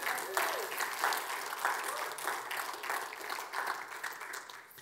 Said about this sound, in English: Why don't we give Jesus a praise clap there?